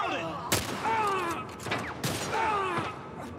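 Gunfire in The Last of Us Part I with two sharp reports about a second and a half apart. Game dialogue and shouting run through the background.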